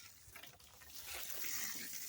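Water from a garden hose at fairly high pressure, used without a nozzle to water in freshly planted garlic bulbs, sprays in a steady, close rush that swells louder partway through.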